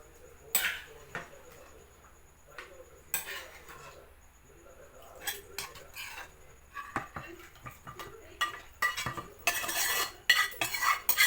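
A spoon stirs Andhra-style gongura mutton curry in a pot during village cooking: repeated metallic scrapes and clinks come in irregular bursts, growing denser and louder toward the end.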